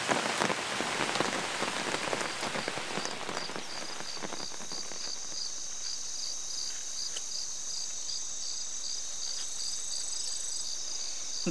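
Steady heavy rain drums on the surfaces around a truck camper during a storm, with a dense hiss throughout, louder drops early on, and insects chirping in the background.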